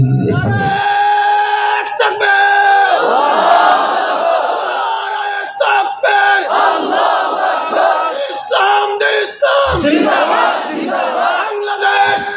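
A large crowd chants the Nara-e-Takbir slogan, loud massed voices rising in rhythmic shouted bursts with brief gaps between phrases.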